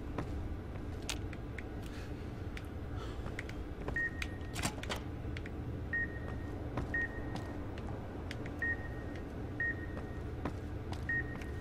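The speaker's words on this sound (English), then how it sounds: "God, there's still so much beeping" Short electronic beeps repeat steadily, roughly every second or so, in the Fallout: New Vegas Dead Money game. They sound over a low, dull ambient rumble with scattered soft clicks and no voices.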